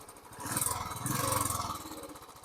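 A 2019 Royal Enfield Electra Bullet motorcycle runs nearby, its single-cylinder engine thumping at a low idle and swelling twice into short revs before settling back, with no talk over it.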